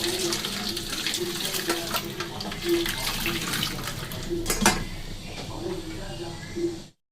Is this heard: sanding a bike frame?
no